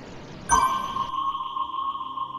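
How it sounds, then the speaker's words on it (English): Locator ping in Fortnite Prop Hunt, a single sharp electronic sonar-like ping that rings out and sustains as a clear tone for about two seconds over faint game background. "Because listen for the ping."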